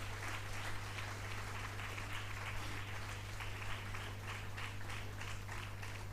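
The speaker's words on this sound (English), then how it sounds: "Shall we please give a round of applause for all our participants, organizers, organizing committee students" Audience at an awards ceremony applauds the participants and organizers, a faint, steady patter of clapping heard over a constant low electrical hum.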